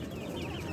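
Chickens and a rooster cluck faintly in a brief burst at a poultry market, distant and muffled amid low background noise.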